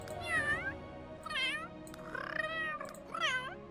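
A cat voice from The Sims 3 pet creator meows four times in a drawn-out, high-pitched, sing-song way, loud and near, over a faint low background hum.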